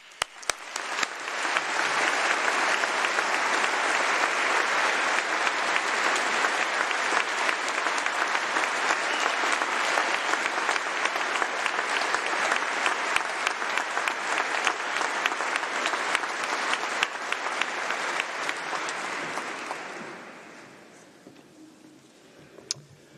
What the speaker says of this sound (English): a big congratulatory round of applause for yourselves and your accomplishments